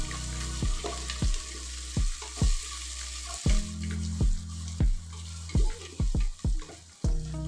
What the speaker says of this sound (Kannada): ಈಗ ಇದನ್ನೆಲ್ಲ ಎಣ್ಣೆಲಿ ಈರುಳ್ಳಿದ ಹಸಿ ವಾಸನೆ ಹೋಗೋ ತನಕ ಚೆನ್ನಾಗಿ ಫ್ರೈ ಮಾಡ್ಕೋಬೇಕು.